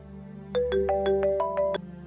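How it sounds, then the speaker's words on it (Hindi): A mobile phone rings with a short rising melody of about eight clear electronic tones. The tones are close and loud and play alone, with no talk over them, before cutting off abruptly. "अच्छा देखो, तुम्हारा फोन बज रहा है"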